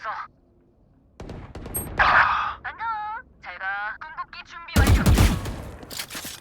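Bursts of gunfire in a video game crackle among electronic beeps and warbling effects, with a loud volley near the end.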